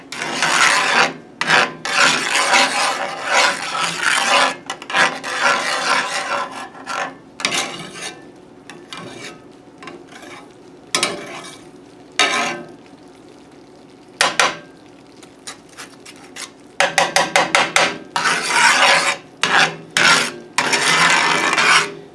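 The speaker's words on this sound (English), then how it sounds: "I'm sorry about all the scraping noises." Repeated metallic scraping of a spatula against an iron skillet of tomato gravy, in irregular bursts with short pauses, then a quick run of rapid scrapes near the end.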